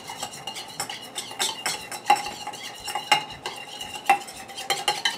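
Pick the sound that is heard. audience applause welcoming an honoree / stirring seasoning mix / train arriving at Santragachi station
stirring seasoning mix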